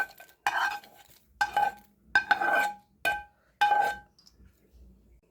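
Tamarind rice with cashews and peanuts being stirred in a metal pot, a spoon scraping and clinking against the sides in several distinct bursts with short pauses between, close up and without talk.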